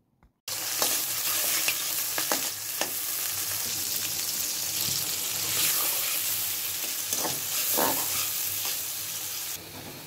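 Mashkalai lentil dal with green chilies sizzles and fries steadily in a pan, stirred now and then, a close continuous hiss with no talking.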